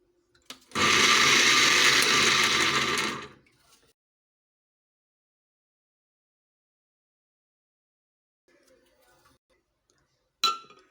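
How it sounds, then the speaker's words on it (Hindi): An electric food chopper grinds two medium onions, green chilies and a little water for falafel, one loud continuous whirring burst of about two and a half seconds, then quiet with faint handling clatter and a brief knock at the end. "ये हम चॉपर में डाल देंगे सारी चीज़ें।"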